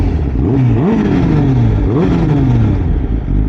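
A Honda CBR1000RR sport motorcycle with a Van Diemen aftermarket exhaust revs up twice in quick succession, pitch climbing and falling back, loud and close with a throaty exhaust note.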